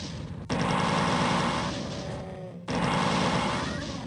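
Doom 2 chaingun firing in two sustained rapid bursts, loud and continuous, broken by a short gap, with game effects mixed in.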